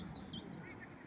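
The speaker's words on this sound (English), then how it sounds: "I know you guys can hear the birds singing to us." Birds singing outdoors, with quick high chirps and short tweeting phrases, faint and somewhat distant over a low background hum.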